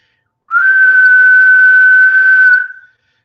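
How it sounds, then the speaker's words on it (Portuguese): A person whistles one steady, clear tone, holding it for about two seconds before it fades out. "um apito, que nem eu assobiei aqui"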